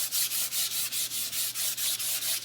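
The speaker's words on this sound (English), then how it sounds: "you're going to want to lightly sand across the bottom of your sign" Light, rhythmic sandpaper strokes across the bottom edge of a wooden door-hanger sign, about ten even back-and-forth rubs in quick succession, close and clear with no talking.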